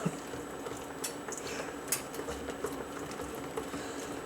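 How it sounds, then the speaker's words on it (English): Coconut cream and egg custard being stirred in a pot, soft scraping and gentle wet patter with a few small clicks of the utensil, quiet and close. "So we just keep stirring as we mix."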